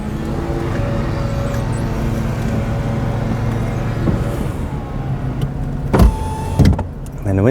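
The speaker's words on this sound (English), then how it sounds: "Unlock that there, windows come down" Electric power windows on a car in Japan whir steadily as they lower, close and continuous under cabin hum, with a couple of brief clicks and bumps near the end.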